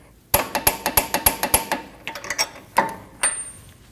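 A ratcheting wrench tightening a fastener on a 2013-2019 Ford Escape front steering knuckle assembly gives a run of about eight sharp, evenly spaced metallic clicks, then a few looser clanks and rattles, close and fairly loud.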